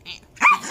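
A small Yorkshire terrier barks and growls close by in a quick, yappy burst with a softer growl before it, without talk.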